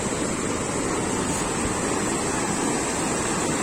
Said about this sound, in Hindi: रिवर बह रही है